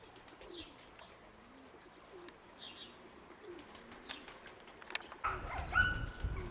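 Soft, low pigeon coos repeat at a distance over quiet background, with a sudden burst of rustling noise near the end.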